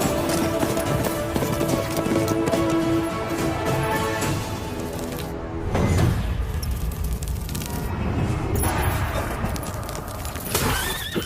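Horse hooves clip-clopping steadily with loud whinnies and neighs over a full, busy soundtrack of a dubbed action film, with a booming swell midway.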